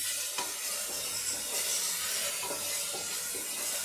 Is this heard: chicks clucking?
no